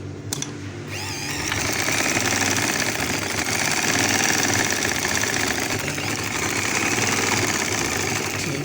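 A very old sewing machine stitches a suit, running in a steady, loud, continuous mechanical whir with a rapid rattling pulse that starts just after a brief quiet moment and carries on without a break.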